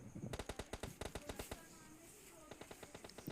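Rapid automatic gunfire rings out in PUBG Mobile on the Livik map, a fast burst of shots followed by a shorter, quieter volley, heard alone without talk.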